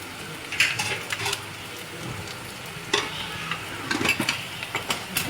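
Chicken filling with chili garlic sauce is stirred in a pan, a steady scraping and sizzling with louder clinks of the spoon against the pan at intervals.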